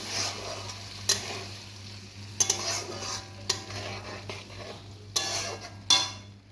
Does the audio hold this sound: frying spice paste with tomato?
yes